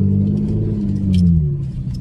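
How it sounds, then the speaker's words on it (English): A Chevrolet Camaro engine rumbles loudly and steadily at close range, a deep low drone that swells slightly midway through with no talking. "my Camaro is roaring happy as well"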